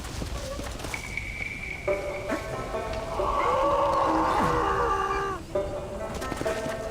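Steady clip-clop of horse hooves in Red Dead Redemption: Undead Nightmare with synthetic, game-like tones layered over them, continuous and fairly loud throughout.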